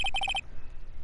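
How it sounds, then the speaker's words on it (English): A telephone in the Phoenix Wright: Ace Attorney game rings after a redial, sounding as five quick, bright electronic ring pulses in rapid succession that cut off abruptly, near and clear. "You pressed redial on that there phone"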